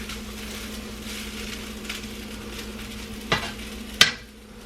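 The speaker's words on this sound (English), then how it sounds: "I'm just frying rice and cooking the carrots." Rice and carrots frying in a pan over moderate heat, a steady soft sizzle with stirring scrapes and a couple of sharp utensil knocks near the end, no talking.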